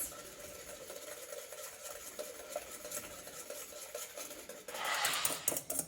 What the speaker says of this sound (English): I'm just gonna whisk them continuously for about 3 to 5 minutes.